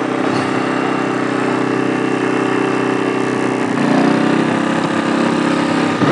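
A Sportsman 1000-watt inverter generator runs steadily under load while charging batteries, a continuous close mechanical drone that grows slightly louder and rougher partway through as eco mode is switched off.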